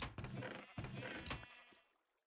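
Sheep in Minecraft bleat twice in quick succession, close and clear, the second call trailing off into quiet.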